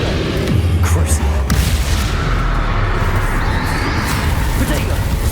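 Booming blasts from the Confringo explosive spell in Hogwarts Legacy are heard amid dense, continuous game combat noise that stays loud throughout, with low rumbling impacts layered underneath.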